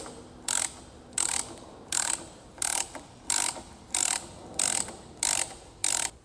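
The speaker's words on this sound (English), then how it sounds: "we're going to slowly push against the front of the spindle. And as you can see, the pump will slowly move out of that housing" A puller tool ratchets in about nine evenly spaced bursts of clicking, close and clear, as it pushes a Cummins fuel injection pump out of its housing, with no voices.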